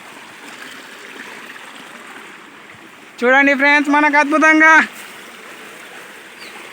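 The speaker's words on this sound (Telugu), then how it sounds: "వాటర్ ఫాల్ అనేది చాలా చక్కగా ఉన్నది" A waterfall and its flowing stream near Kurnool give a steady rushing wash, while someone speaks briefly over it in the middle.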